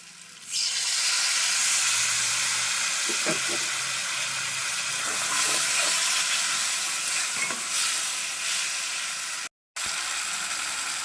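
Tamarind water poured into okra masala in a hot pan sets off a sudden loud hiss and sizzle that keeps bubbling steadily, with a brief cut near the end.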